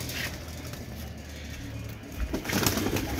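Kaldum pigeons at a Lucknow bird sale coo in a low, murmuring rumble, steady and nearby, swelling louder in the last second or so with some faint rustling.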